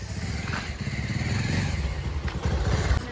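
A motorcycle ridden at night with a passenger on the back drones steadily and close up, its engine note holding even throughout with a faint rattle over the rumble.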